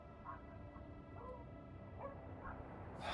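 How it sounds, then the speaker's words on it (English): Dogs barking at a distance, faint and muffled, a few scattered barks and yips over a steady background hum, with no nearby voices. "The only reason the dogs are barking is because the neighbors' dogs are barking."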